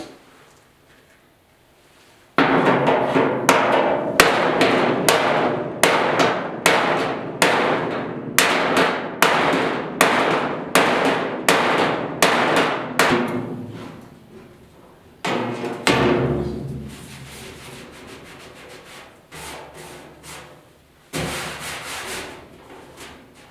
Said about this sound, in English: On the little lip, I'm just using a hammer like this.